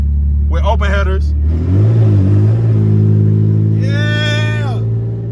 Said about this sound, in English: I'm driving around with open headers.